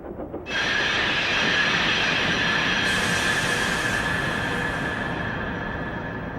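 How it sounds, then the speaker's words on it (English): Steam locomotive brakes squeal loudly in a quarry with a piercing metallic whine, joined midway by a hissing rush, ringing out with an echoing, hollow quality. "The sound of Thomas's brakes has changed again. Thomas's brakes echo."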